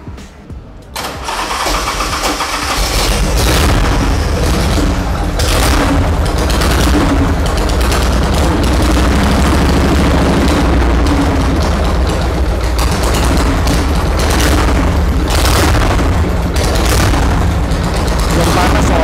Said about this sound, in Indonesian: Jadi memang motor ini suaranya sangat-sangat keren ya.